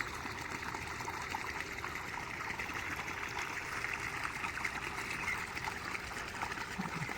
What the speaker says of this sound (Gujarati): તમે જોઈ શકો છો કેવું પાણી ચાલુ છે મોટરનું